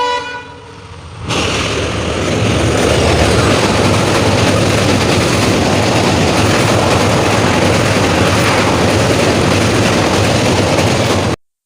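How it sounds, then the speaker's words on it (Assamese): A train rolls past close by on a rail bridge, a loud, steady rumble of wheels and wagons that lasts several seconds, with horn toots at the start and then a sudden cutoff. "যিটো দৃশ্যত মই সৰু ঘৰটোত সোমাইছিলোঁ আৰু মোৰ কাষেৰে ট্ৰেইন গৈছিলোঁ"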